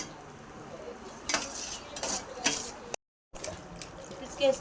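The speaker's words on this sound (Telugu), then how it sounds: "చూడండి, ఇట్లా ఈ చేపలంతా బాగా వాష్ చేసుకోవాలి." Dry fish being washed by hand in water for a curry, with clattering of dishes and water handling in bursts, briefly cut to silence midway; no speech.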